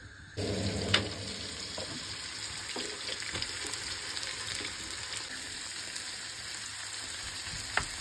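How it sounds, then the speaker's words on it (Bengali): Chillies frying in mustard oil in a frying pan, a sudden onset of close, steady sizzling that continues evenly with occasional small pops and clinks. "এই ফ্রাই প্যানে অনেকগুলা মরিচ সরিষার তেল দিয়ে প্রথমে ভেজে নিই"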